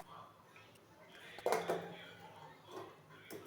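Clanking of a metal cake pan being lifted out and a smaller bowl set down in its place, a burst of clatter and scrapes with a few lighter knocks after, fairly close.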